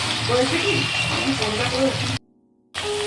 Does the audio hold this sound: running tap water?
yes